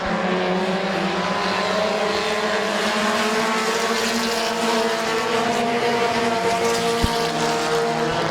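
Race cars roar around the oval at Midvale Speedway, a dense, continuous engine drone from several cars at once, heard at a moderate distance with no voices.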